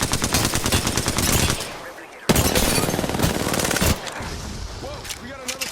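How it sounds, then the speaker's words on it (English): Gunfire in the video game Apex Legends: loud rapid automatic bursts in close succession, then a short gap and a sharp renewed volley, with further shots and game effects trailing off. "Listen up, I'm getting shot at."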